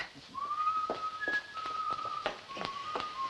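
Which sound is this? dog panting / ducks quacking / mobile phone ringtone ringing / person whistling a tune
person whistling a tune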